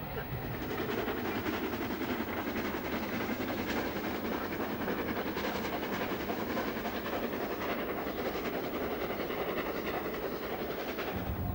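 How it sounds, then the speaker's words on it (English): Flying Scotsman steam train on the move, a continuous dense rumble of wheels and carriages at moderate level with a soft hissing wash over it, steady from start to end. "it's travelling behind steam, Flying Scotsman, reliving the age of steam of yesteryear"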